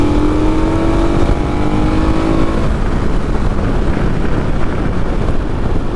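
A KTM 1290 Super Adventure S motorcycle accelerating hard, its engine note climbing steadily for a few seconds before giving way to loud, constant wind rush.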